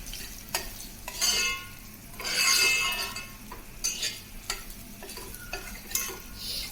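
Barnyard millet roasts in ghee in a pan while a spoon stirs it, giving a soft steady sizzle broken by repeated scraping strokes and light metallic clinks, close and fairly quiet.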